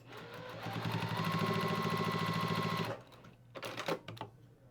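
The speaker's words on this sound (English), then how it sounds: "we're just gonna do a little test sew here to see what the stitches look like on this type of material" A sewing machine runs a test seam with black thread at a long topstitch length, a loud, fast, even mechanical whir and chatter for about three seconds, then stops, followed by a few short handling clicks and rattles.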